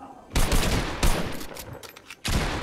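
Gunfire from computer-controlled opponents in the Fortnite video game, loud bursts of rapid shooting in a few sustained volleys with short gaps between them.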